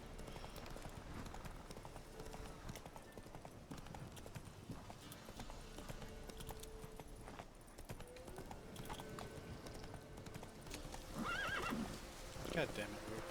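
Roach, the horse in The Witcher 3, gallops with a steady, rapid clip-clop of hooves and gives a sharp neigh near the end. Game sounds and voices run underneath.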